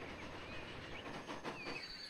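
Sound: trains running on railway line in video game Transport Fever 2

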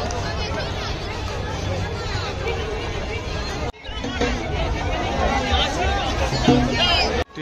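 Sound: huge crowd at Ganesh immersion procession in Lucknow

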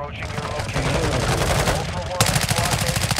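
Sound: gunfire in a video game

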